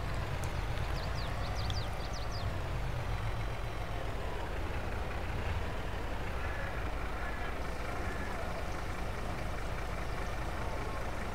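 Truck driving on a road in Farming Simulator 22 while delivering milk, a steady low engine drone that stays even throughout with no talk over it.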